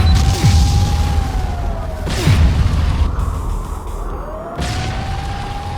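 A video game gunshot lands as a sharp boom with a sweeping tone behind it, followed by a second blast about two seconds later over steady loud game noise.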